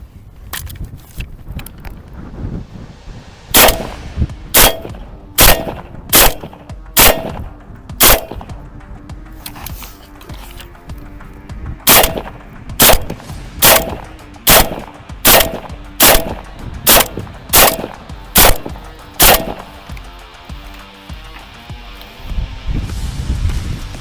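A series of sharp, loud snapping shots from a Ukrainian "Vulkan" toy rifle fires at a fairly regular pace, with quiet handling noises between bursts.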